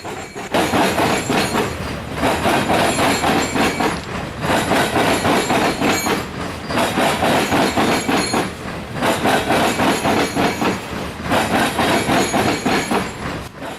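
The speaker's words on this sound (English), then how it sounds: "After the coal train came on by" A long coal train rolls past near Marion Union Station, its wagons clattering loudly in repeated rhythmic bursts of wheel-on-rail clicking and banging, separated by short dips as car gaps go by.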